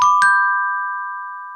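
Two quick ding-dong chime strikes, close and clear, then a long smooth ringing decay that fades away alone, suggesting a church's fine-toned bells.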